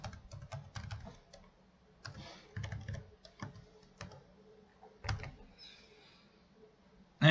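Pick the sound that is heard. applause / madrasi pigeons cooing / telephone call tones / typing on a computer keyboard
typing on a computer keyboard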